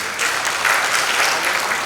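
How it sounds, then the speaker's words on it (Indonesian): A church congregation at an online worship service claps together in steady, dense applause throughout, without voices over it. "Berikan tepuk tangan buat Tuhan Yesus."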